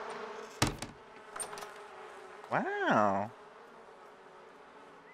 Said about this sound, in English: They're nice bees.